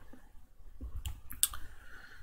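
A computer mouse clicks a few times at a desk, sharp close clicks spaced irregularly against quiet room tone, with no talking.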